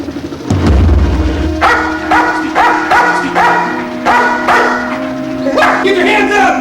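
A police dog barks hard and repeatedly at a burglary suspect, loud and close, with rapid, insistent barks coming in bursts while people shout over them.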